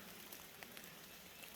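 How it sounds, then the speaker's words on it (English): Rain falls softly in the woods during a spring turkey hunt, a faint, even hiss of drops with occasional light patters, alone and steady. "it's raining."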